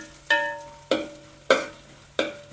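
Small chopped coconut pieces frying in hot oil, stirred in four sharp scraping strokes, each a loud clatter followed by a fading sizzle; no voices.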